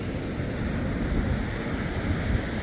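Ocean surf churning at the mouth of a river estuary at high tide in St Lucia, where the incoming sea meets the outflowing river current; a steady broad roar with wind buffeting the microphone, no voices.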